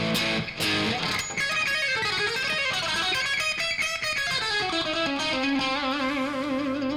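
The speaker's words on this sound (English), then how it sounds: "Here's a lick from my first instructional video" Electric guitar plays a harmonic minor lick with string skipping, a fast run of distorted, effect-laden notes rising and falling before settling into a sustained held note, played alone and fairly clearly.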